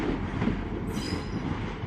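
A London Midland train departs Shrewsbury station with a steady low rumble of wheels on rail and a brief high squeal partway through, heard from the platform.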